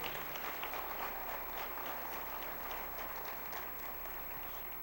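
A church congregation claps for the Lord in a dense, continuous round of applause, a steady wash of many hands at moderate distance that holds for several seconds before easing slightly, with no speech over it.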